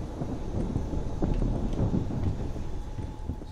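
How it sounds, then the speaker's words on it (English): Low rumbling thunder rolls through a Dead Island thunderstorm, a steady deep roar with soft rain-like noise and a faint constant tone underneath, moderately quiet and without speech. "Sounds like there's a storm moving in."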